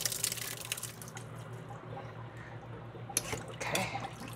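Cooked rice being strained as hot water pours out into a sink, a steady running, splashing flow up close with a brief louder gush near the end.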